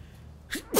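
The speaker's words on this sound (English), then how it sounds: "that was like an awful sneeze" A single sneeze in the Rise of the Ronin game on PS5, a short sharp intake followed by a loud explosive burst, close and alone.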